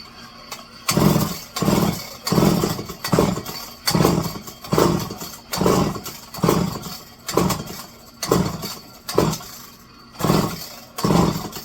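McCulloch 5-10E electric-start chainsaw with a flooding carburetor cranking over and over in steady, evenly spaced pulses, about a dozen loud churning bursts with short gaps between them, close up and without catching.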